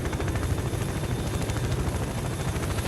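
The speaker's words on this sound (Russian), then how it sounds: "теперь вертолет так и будет за мной летать или что?" Helicopter circling overhead in S.T.A.L.K.E.R.: Call of Pripyat near the Agroprom research institute, a loud, continuous rotor thrum with rapid, even blade pulses that stays steady throughout, with no talk.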